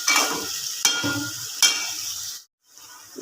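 Meat sautéing in a pan sizzles close by, broken by three sharp stirring scrapes, then cut off briefly near the end before the sizzle returns.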